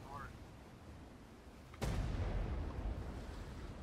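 Cannon fire from ships in the ATLAS pirate game: after a quiet stretch with a faint voice, one loud sudden boom hits and rolls into a long, rumbling decay.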